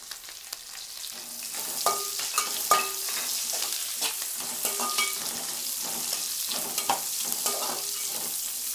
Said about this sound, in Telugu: ఉల్లిపాయ ముక్కలు కూడా కొంచెం వేగాలి.